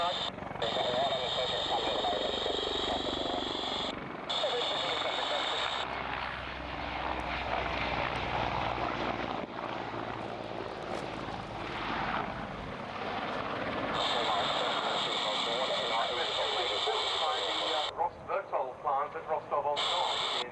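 A Czech Air Force Mi-24 Hind attack helicopter's rotor and engine drone throughout, steady and loud, with radio-like chatter and voices talking over it.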